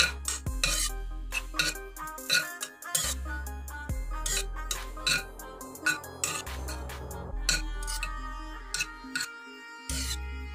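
Dry fruits fry in melted ghee while a spoon scrapes and clinks against the pan in an uneven rhythm, close up over a low steady hum.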